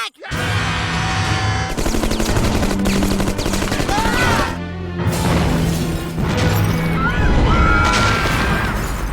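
A South Park fight scene with nail guns and a giant explosion: dense, loud rapid-fire bursts and bangs run continuously, with crashes and shouting voices mixed throughout.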